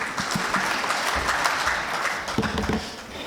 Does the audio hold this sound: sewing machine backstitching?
no